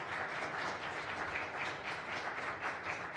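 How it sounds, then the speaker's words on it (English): Audience at a public meeting applauding, a steady, fairly quiet wash of clapping hands with a faint rhythmic pulse and no voices over it. "I totally love the fact that people are applauding"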